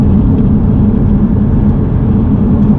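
An Audi R8 at full throttle gives a loud, steady engine roar with a heavy low rumble, sustained and close throughout with no pauses or talk.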